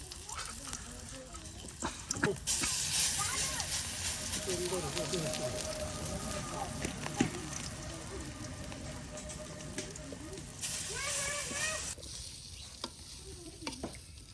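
Drumstick flower fritters frying in oil for a winter morning meal, a dense continuous sizzle and bubbling close up with occasional stirring clinks, while a voice talks over it.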